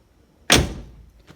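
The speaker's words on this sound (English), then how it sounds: "As you can tell when I close that door" A sound-deadened IROC Z door shuts in a single solid, muffled thud, close and loud, followed by a short fading resonance and quiet afterward.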